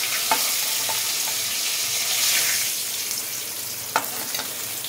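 Catla fish heads fry in hot oil, giving a steady, dense sizzle with occasional sharp spatters and pops, close and fairly loud.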